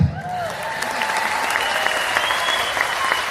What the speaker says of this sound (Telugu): వాళ్ళు పోయినాక కరెక్ట్ అయితే క్లాప్స్ కొట్టాలి